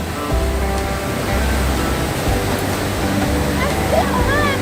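A waterfall rushes beside a bridge in Chiang Mai as a loud, steady roar of falling water, with voices talking over it throughout.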